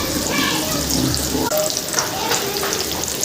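Surmai (kingfish) pieces frying in a pan with a steady, close, loud sizzle that runs unbroken throughout, with faint kitchen clatter under it.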